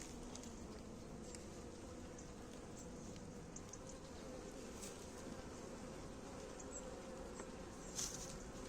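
A steady, dense buzzing of many honeybees at an open hive fills the scene, constant and close, with a faint brief rise near the end.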